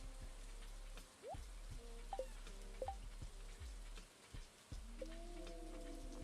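Steady, gentle rain hiss from the farming game Stardew Valley runs throughout, with a low hum beneath and a few faint rising chirps and soft game tones scattered over the patter.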